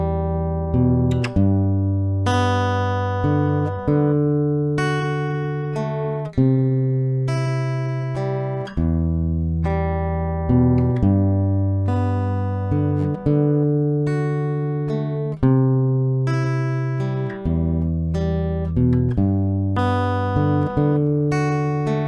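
Acoustic guitar plays the melody of a song as a steady sequence of plucked notes and ringing chords that repeats for over twenty seconds, clear and close with no talking.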